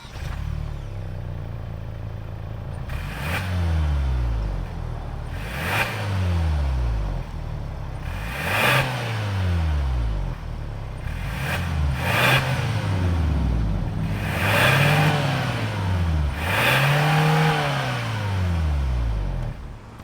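A 2022 Kia Sorento SX with its 2.5-liter turbo engine revs repeatedly, about eight rising-and-falling blips at steady intervals, loud and close, with no talking over it.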